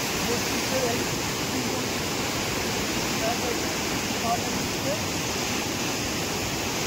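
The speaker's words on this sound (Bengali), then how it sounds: "এত সুন্দর স্রোতে শব্দ শুনতে পাচ্ছি একদম" Steady broadband rush of a river stream flowing over rocks in the Rongo river valley near Kalimpong, a continuous close, even water roar filling the whole clip without pause.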